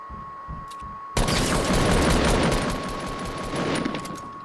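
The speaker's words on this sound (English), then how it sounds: "Heard the shots over here." Rapid bursts of automatic gunfire in the Fortnite battle royale game, loud and dense after a quiet start, with shots overlapping for several seconds.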